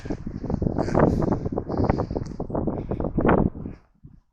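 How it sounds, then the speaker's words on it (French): Gusty wind buffeting the microphone, low rumbling thumps rising and falling for several seconds before dropping away near the end. "Par contre, il y a un peu de vent, je m'en excuse."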